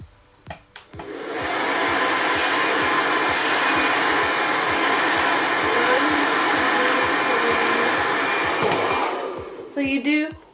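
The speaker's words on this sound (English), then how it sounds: "the back is gonna be down, so we're gonna blow dry it down" A handheld hair dryer blows steadily on a pixie cut for about eight seconds, a loud close whoosh that switches on and off, with brief handling noises at either end.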